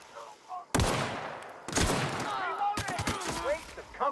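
Gunfire in The Outer Worlds, three sharp bursts of shots spaced about a second apart, each with a loud crack and trailing echo over quieter background game sounds.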